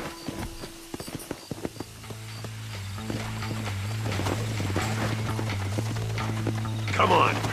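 Steady clip-clop of horse hooves at a trot in Red Dead Redemption, with a low droning hum and game background sounds; a voice speaks briefly.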